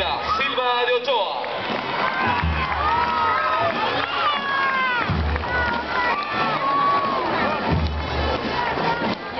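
A crowd at a Chorrillos school parade with floats and paso horses cheers for the Brígida Silva de Ochoa school, with children's shouts and excited voices rising and falling continuously amid loud, close crowd noise and talking.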